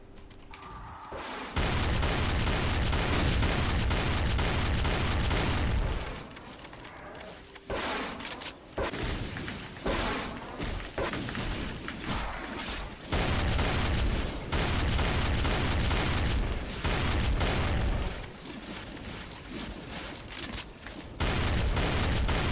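Weapons fire in the shooter game Brutal Doom as dense bursts of rapid, booming gunshots and explosions that come close and loud in several long volleys, with brief pauses between them.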